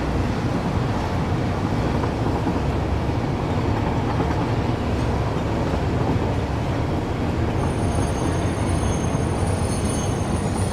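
A train in the video game Satisfactory rolls along steadily with a continuous dense rumble and rail noise, loud and without pause throughout, with a faint high whine near the end and no talking.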